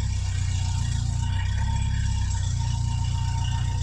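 A 1971 Toyota Celica TA22 project car drives under its own power for the first time in over a decade, its engine running in a loud, steady low rumble throughout with no talking.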